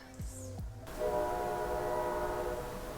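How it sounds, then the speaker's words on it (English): A train horn blares at the start, then the steady rumble of the train passing by carries on loud and continuous. No one talks over it. "Waiting for this train to pass."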